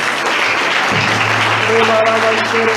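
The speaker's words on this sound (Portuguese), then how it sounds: "Você pode aplaudir ao Espírito Santo de Deus" A church congregation applauds during a worship service, giving a loud, sustained wash of clapping while soft musical tones rise beneath it toward the end.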